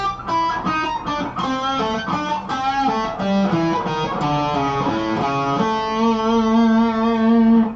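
An electric guitar plays a blues rock lick: a run of picked and sliding notes, then a sustained bent note that rings out near the end. It is loud, close and solo, with no talking over it.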